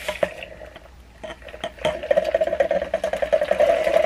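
An electric makeup brush cleaner spins a brush in a bowl of water on its highest setting, giving a steady whirring hum with a buzzy rattle that grows louder and more uneven partway through, heard alone at close range.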